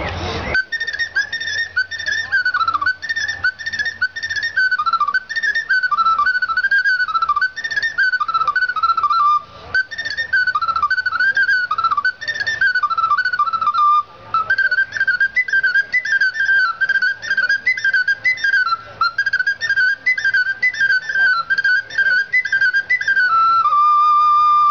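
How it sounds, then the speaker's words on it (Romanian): A small ocarina plays a bright, pure-toned melody throughout, its notes stepping and trilling in quick phrases, close and clear with a faint low hum underneath. "Și acum cealaltă, o carină mică."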